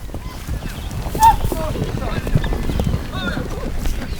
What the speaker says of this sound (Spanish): los jinetes van agrupando a los caballos